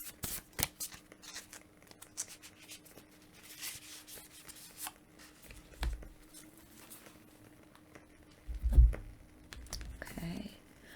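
Tarot cards are shuffled by hand, with soft, close riffles, rubs and light taps coming in irregular bursts, quiet and intimate, alongside occasional low speech and handling noises.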